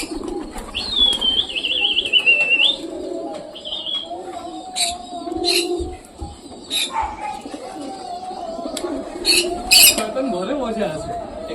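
Pigeons coo in repeated soft, throaty calls close by, with scattered chirps and a brief flutter of wings as a young pigeon takes off. A voice talks intermittently in the background.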